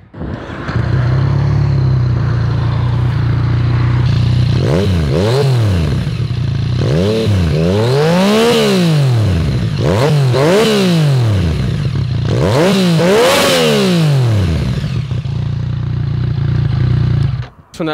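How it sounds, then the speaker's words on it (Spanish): Yamaha MT-09 (FZ-09) motorcycle fitted with a Two Brothers S1R exhaust, revved repeatedly while standing: a steady idle rises into several sharp, loud throttle blips that sweep up and fall back, close and unaccompanied by talk. "los fanáticos de Two Brothers ya saben que estos escapes suenan hermoso y pues vamos a ver qué tal suena"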